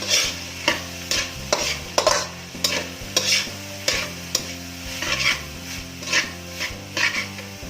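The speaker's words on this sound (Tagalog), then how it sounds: "Mix it well." A sweet spaghetti sauce mixture is stirred in a pan, with rhythmic scraping strokes and clatters repeating steadily over a soft sizzle, close and fairly loud with no talking.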